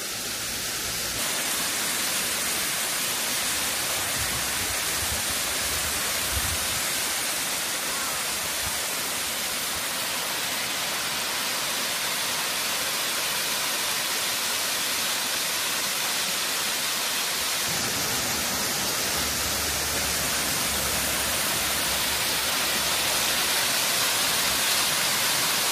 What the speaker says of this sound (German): Erster Blick auf den Wasserfall.